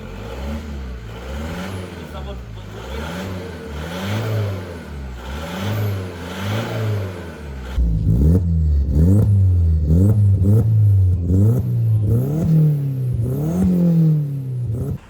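A diesel car engine, a 1.9 TDI, revs repeatedly, rising and falling in pitch, then grows louder and more insistent with rapid throttle blips, close and dominant throughout.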